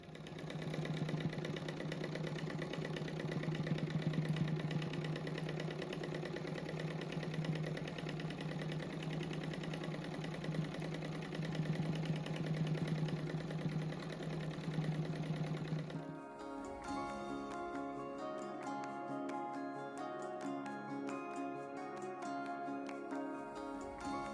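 A sewing machine runs steadily while stitching a patchwork rug with beige thread, a continuous close mechanical hum and rapid needle rattle. Partway through, the running changes to a lighter, faster clicking rhythm.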